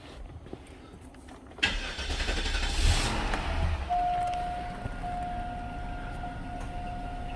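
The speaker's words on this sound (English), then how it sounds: "I heard a compressor click on." A car's A/C compressor clutch engages with a click after the engine starts up, the engine rumble swelling then settling to an idle, with a thin steady whine rising as the system runs.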